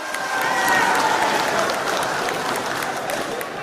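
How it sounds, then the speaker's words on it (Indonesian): An audience at a regional election debate applauds the three pairs of candidates, with a dense, sustained wash of clapping at an even level and faint voices underneath. "Kita beri tepuk tangan untuk 3 pasangan calon."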